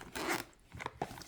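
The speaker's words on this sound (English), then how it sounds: "Zipper." A zipper is pulled open on the carrying case of an EKSA S30 Bluetooth wireless headset, giving quiet, close rasping strokes in a few short bursts.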